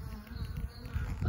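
Honey bees buzz over a hive with a dense, close, continuous drone of wingbeats that swells and dips slightly, loud and alone with no talking.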